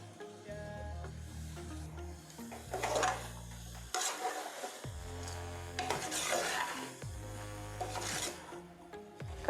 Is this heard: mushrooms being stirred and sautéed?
yes